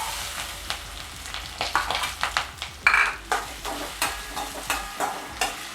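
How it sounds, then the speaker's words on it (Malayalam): Small pieces of potato frying in hot oil in a pan, a busy crackling sizzle with repeated scraping stirs and soft clinks of a utensil, close and steady throughout with no talking. "ഒന്ന് പൊരിയണം ഇത് എണ്ണയ്ക്കകത്ത്."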